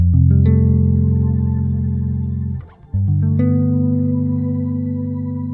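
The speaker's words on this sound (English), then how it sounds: "it also has a pretty wicked shimmer reverb on there" Sustained electric guitar chords ring through a pedalboard with an MXR reverb pedal set to shimmer, holding a thick, shimmering wash; one chord decays, cuts briefly, and a second is struck and sustains, loud and close.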